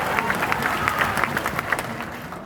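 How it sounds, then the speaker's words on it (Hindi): A crowd at a political rally in Bihar claps in a dense, continuous patter that fades slightly toward the end, with some voices mixed in. "आगे के लोग कितना जोर से ताली बजा रहे हैं, जोर से बजाइए, फिर से जोर से बजाइए"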